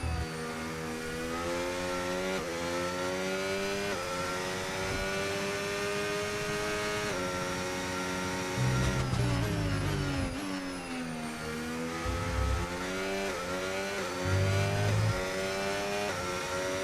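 Formula 1 cars in F1 25 at the Bahrain Grand Prix, with Ferraris chasing, give a loud, close, high engine whine that rises and falls through gear changes and passing cars, with no talking.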